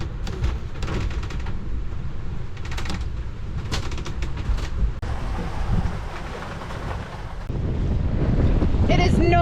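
A sailboat underway in strong wind off the Great Barrier Reef, with steady wind buffeting the microphone and rushing water along the hull, loud and continuous throughout, with a harsher gust surge near the end.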